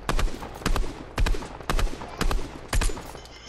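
Sharp, spaced gunshots from a shooter video game, six or so loud cracks landing in a steady rhythm about half a second apart, each with a short ringing tail.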